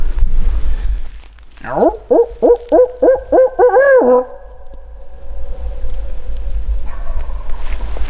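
A wild turkey gobbles once, a loud rapid rattling burst lasting a few seconds, from some distance, against quiet outdoor background.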